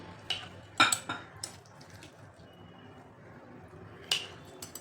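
Homemade carrot and green chili pickle is stirred in a container with a metal spoon. A few sharp clinks and scrapes come close up, separated by quiet pauses.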